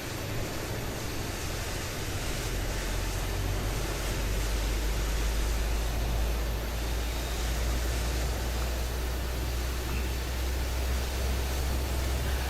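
Engine startup of a PMDG Boeing 737 BBJ2 in a flight simulator: a steady, loud broadband roar and low rumble that builds slightly and holds for the whole stretch, with no voices.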